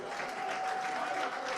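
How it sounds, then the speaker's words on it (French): Wedding guests applaud at an evening wedding reception in Noun, West Cameroon, a dense, continuous wash of clapping from a crowd that holds steady for a brief moment, heard at a moderate distance. "Est-ce qu'on peut les applaudir?"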